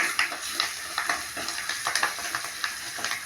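A spoon stirs poha chevda with salt in a pan over the stove, giving a steady run of soft scraping clicks over a faint frying sizzle, close and fairly quiet, with no voices.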